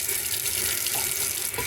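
Tap water running into a container being filled for thawing frozen rodents, a steady, close, full-bodied rushing splash with no speech.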